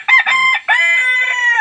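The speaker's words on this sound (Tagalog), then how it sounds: "Yung tarawak ng aking manok." A rooster crows nearby, loud and clear, a short opening note followed by a long drawn-out cock-a-doodle-doo call, alone with no voices.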